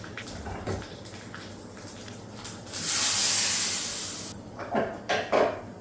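Mustard seeds, pepper-cumin powder and a pinch of asafoetida hit hot oil for a tempering for mango rasam, giving a loud sizzling hiss that swells and then fades, with a few crackles after.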